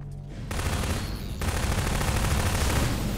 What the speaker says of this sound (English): It's the gunfire that's really annoyingly loud.